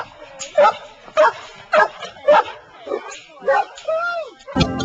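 A dog barks repeatedly outside a house as someone approaches it, with six or seven loud, evenly spaced barks, then a rising whine and a final sharp yip, close by and with no talk over it.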